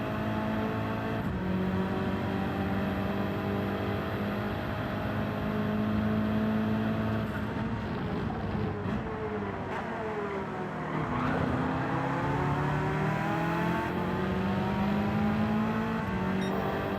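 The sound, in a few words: Porsche race car engine roaring, from video game Gran Turismo 7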